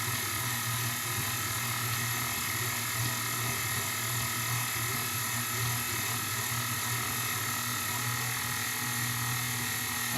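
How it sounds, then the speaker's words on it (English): A stand mixer on speed 2 kneads bread dough, giving a steady, loud mechanical whir with a rhythmic gear-like churning that continues evenly throughout without any talking. "we're going to turn the mixer up on 2. And from there, we're going to knead the dough for 8 minutes."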